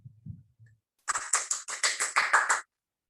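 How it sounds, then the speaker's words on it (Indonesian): Sixth-grade classroom students clapping their hands together in a quick rhythmic burst of about nine claps, close and fairly loud, after a brief faint low murmur. "Sekarang kita beri tepuk tangan untuk Fira Antikasari"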